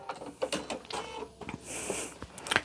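A sewing machine stitches a quilt test block in short mechanical bursts, a rapid whirring clatter that starts and stops several times, close and moderately loud.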